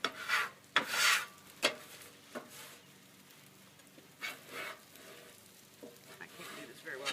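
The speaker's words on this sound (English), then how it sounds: "I'm going to use this to scrape it" A metal scraper drags across a hot 36-inch griddle clearing debris, giving several rough, rasping scrapes with sizzle between them and a few sharp clanks, moderately close and unaccompanied by talk.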